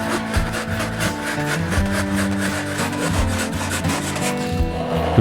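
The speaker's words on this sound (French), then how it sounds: "pour ces morceaux les plus épais, je les refends dans l'épaisseur" A hand saw rips thick pieces of exotic hardwood lengthwise through their thickness for a baritone guitar rosette, giving a steady, close rasping stroke that carries on without a break.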